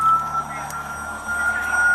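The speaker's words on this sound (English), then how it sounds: "it has a functioning siren to go with the lights, alternating sirens" Alternating siren of a toy-like police car with working emergency lights, a steady high electronic tone wavering between two pitches, close and moderately loud with no one talking.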